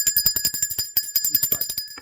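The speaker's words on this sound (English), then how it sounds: "I'm going to ring the bell for that." A small bright bell rung rapidly and repeatedly, about twenty quick strikes in two seconds, close and clear with a ringing tone, heard alone.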